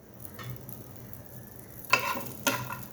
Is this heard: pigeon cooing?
no